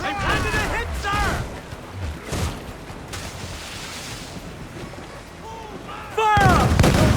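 Ship cannons fire a broadside in Assassin's Creed Black Flag, with heavy booming blasts mixed among shouted crew commands. A second loud volley crashes in near the end.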